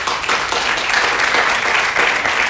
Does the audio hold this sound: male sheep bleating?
no